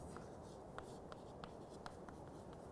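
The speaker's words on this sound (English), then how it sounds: "let me write down the reaction first" Pen or marker scratching out a chemical reaction for a ternary four-phase equilibria lecture, a quiet run of short strokes and taps over a steady background hiss.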